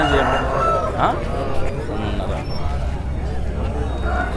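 A rooster crows amid the hubbub of a Sunday country chicken market in Ongole, the cry cutting through steady crowd babble, clucking and nearby people talking.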